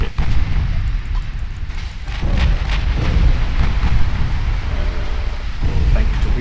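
Torpedo striking a warship in Ultimate Admiral Dreadnoughts, a heavy booming rumble with rolling low blasts and crackle that swells and sustains throughout, loud and close without talk.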